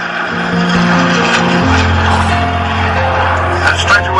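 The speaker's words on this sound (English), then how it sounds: "here they come from straight ahead, the Hurricane leading, the Spitfire in trail." A Hawker Hurricane and a Spitfire fly past at an air show, a steady loud piston-engine roar with a shifting pitch as the pair approaches, while a commentator speaks over it.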